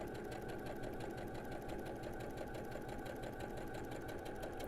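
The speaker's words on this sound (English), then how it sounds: "I'm going to stitch using my 1/4 inch foot as a guide." A sewing machine runs steadily, stitching fabric pieces together with a quarter-inch presser foot as a guide while piecing a quilt block; a continuous, even mechanical whir with rapid rhythmic needle pulses, close and unbroken throughout.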